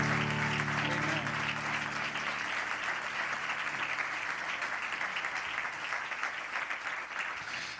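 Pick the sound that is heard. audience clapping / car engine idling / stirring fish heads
audience clapping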